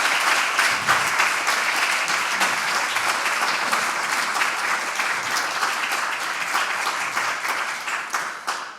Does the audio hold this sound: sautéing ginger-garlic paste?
no